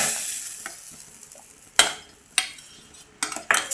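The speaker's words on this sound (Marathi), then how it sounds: "बघा मस्तपैकी अशी फोडणी द्यायची." Mustard seeds, asafoetida and turmeric sizzle in hot oil as a tempering for a colocasia-leaf dish. A soft, steady frying hiss is broken by several sharp clinks of a spoon against the pan.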